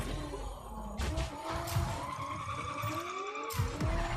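A car drifting in the Rocket Racing video game: tires squeal in a long rising and falling skid over a loud engine roar, with sharp bursts as the drift begins and ends.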